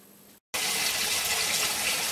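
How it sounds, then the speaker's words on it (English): Water gushes steadily into a hydroponic RDWC system tank from a hose, a loud continuous splashing fill that starts abruptly after a brief quiet pause and carries on alone. "can now fill the tank with water to mix in your nutrients"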